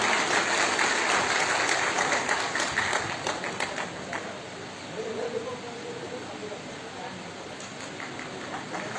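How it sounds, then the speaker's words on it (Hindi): Crowd applause in an auditorium in Chhatarpur at a public welfare programme, dense clapping that starts strong and thins out partway through into a softer, pattering tail, with faint voices underneath. "एक बार जोरदार तालियां इन लोगों के लिए।"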